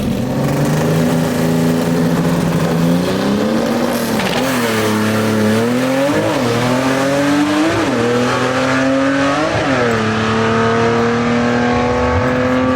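Loud, continuous engine roar of a drag-race gasser, a Studebaker called the Corn Pop against a 1960 Rambler wagon, with repeated rising and falling revs and gear-change dips, close and steady throughout with no talk.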